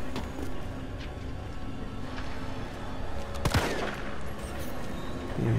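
Gunfire in the video game Resident Evil 3 during a subway scene: faint shots under game ambience, with a single sharp, louder gunshot crack past the middle and low rumbling after it.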